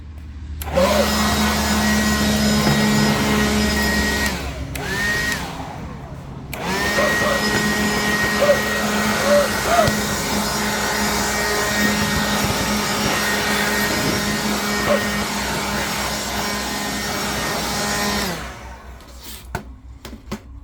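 A loud vacuum cleaner whines steadily while sucking debris out of a 1998 Honda 300 4x4 ATV that has sat for years, cutting out briefly twice before it stops near the end.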